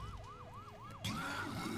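A ghost ambulance in Luigi's Mansion 3 wails with a rising-and-falling siren sweep repeating about four times, then a sudden loud burst of noise joins as the siren keeps cycling, with no talk.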